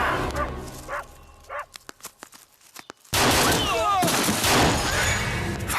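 In a Hindi action film, scattered sharp gunshots snap out after a quiet stretch, then erupt into loud sustained automatic fire mixed with shouting voices and a dog's barking.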